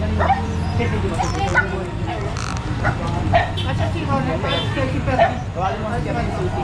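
A dog barks and whimpers with short yips, close and loud, amid overlapping, agitated talking voices during a street clearing operation.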